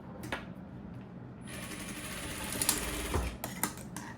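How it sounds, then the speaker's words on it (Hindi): Sewing machine stitching a pocket onto ladies' pants, a close, steady mechanical whir and rapid needle chatter running for a few seconds, then settling into a few separate clicks and thumps. "एक पैर के ऊपर आपने सिलाई लगानी है, कंप्लीट करनी है सिलाई"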